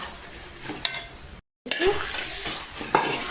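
A curry of dried shrimp and potato cooks in a pan, sizzling steadily while a spoon scrapes and stirs with occasional metallic clinks, close by and moderately loud, broken by a brief silent gap.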